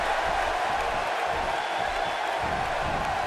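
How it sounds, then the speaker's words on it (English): A dense, roaring crowd fills a Tokyo arena in a WWE 2K wrestling game. A continuous wash of cheering noise holds at a steady, loud level with no clear individual voices. "just listen to this Tokyo crowd"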